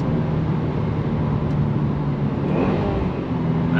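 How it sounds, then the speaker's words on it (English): Subaru WRX engine pulling hard toward redline, a loud continuous drone heard from inside the car, with no talk. "I just love the way she pulls all the way to red line."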